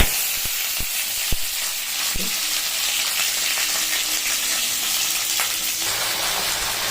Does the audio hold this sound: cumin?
yes